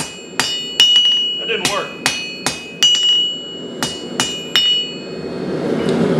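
A blacksmith hammers half-inch steel stock while forging a barb for a trident fire poker: about a dozen sharp, ringing metallic strikes at an uneven pace. A voice speaks briefly near the end.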